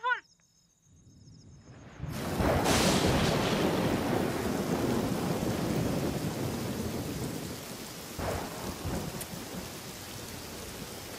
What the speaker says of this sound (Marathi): काय पाऊस तर काय थांबायचं नावच घेत नाही.